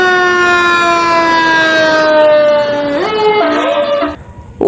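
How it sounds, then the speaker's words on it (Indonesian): A toy fire truck siren holds a steady electronic wail, then wobbles and cuts off near the end, loud and close. "ini mobil pemadam kebakaran"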